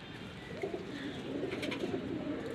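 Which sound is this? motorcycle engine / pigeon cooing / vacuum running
pigeon cooing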